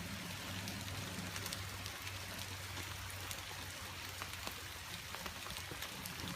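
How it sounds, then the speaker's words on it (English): Heavy rain falls outside in a backyard as a dense, steady hiss with scattered drops pattering on surfaces close by, continuous throughout and with no voices. "It's raining really hard."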